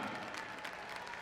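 Applause at a horse show, a steady patter of clapping from an appreciative crowd, moderately distant and continuous throughout, with no speech.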